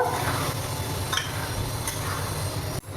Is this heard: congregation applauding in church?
no